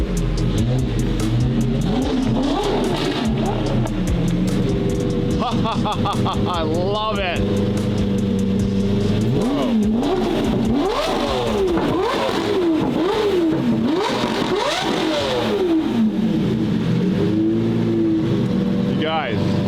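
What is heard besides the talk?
Lamborghini Murcielago GT1 race car engine revving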